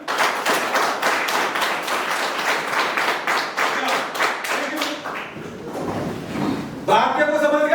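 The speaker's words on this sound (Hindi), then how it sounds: "सबके लिए जोरदार तालियां।" Loud, fast clapping from a group of students at a defence training academy class, a steady burst of applause that thins out toward the end, with voices over it.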